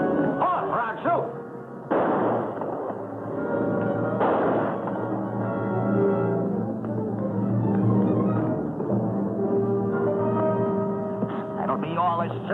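A shootout in an old radio drama: a few sharp gunshot bursts crack out seconds apart among shouting voices, all heard through a narrow, muffled broadcast sound.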